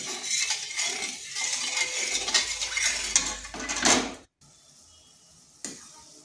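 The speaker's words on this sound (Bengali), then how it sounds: "এরপর ভালো করে চিনি জল সব একসঙ্গে মিশিয়ে নিচ্ছি।" A spoon stirs sugar, water and a little refined oil together in a pan, clinking and scraping busily against the metal for about four seconds, then stopping to near silence, with one more faint knock.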